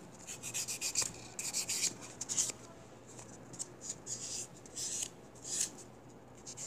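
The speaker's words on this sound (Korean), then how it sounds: "그래서 샌딩을 한번 살짝 해주시고" Light sanding of a fingernail before gel is applied, a quiet scratchy rubbing that comes in short, repeated bursts of strokes with brief pauses between them.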